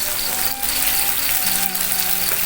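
Shrimp hit hot oil already frying with bird's eye chilies, giving a loud, continuous crackling sizzle close up, with bursts of sputtering as the pan spits.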